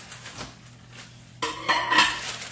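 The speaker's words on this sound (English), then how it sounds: "Let me grab a little saucer real quick." Dishes clink and clatter as a saucer and other crockery are handled close by, a few light knocks then louder rattling.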